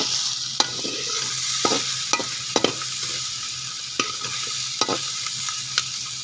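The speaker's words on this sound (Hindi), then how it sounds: "ये जी मेरी जा रही शिमला मिर्च, हल्की हल्की फ्राई करूँगी सब्जी को" Capsicum being stir-fried in a pan, with a steady sizzle and sharp clicks of a spatula striking the pan at irregular intervals, close and without any talk.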